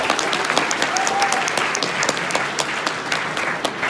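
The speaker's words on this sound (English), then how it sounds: "you guys give me a round of applause" Dense, sustained applause from an audience at a leadership talk, a steady wash of many hands clapping loudly throughout with no voices on top.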